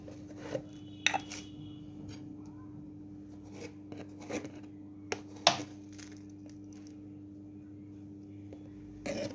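Oil and thyme stirred together in a bowl with a utensil, making soft scraping and clinking taps with a few sharper knocks against the bowl, quiet and close with no speech.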